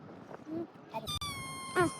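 A cat on a beach in Oman, eating fish near anglers, gives a couple of short meows, nearby and fairly clear, with a higher plaintive call near the end, amid faint background noise.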